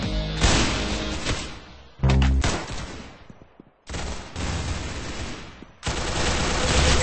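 Rapid automatic gunfire from the video game Arsenal comes in several loud bursts separated by short pauses, sharp and close, with no talk over it.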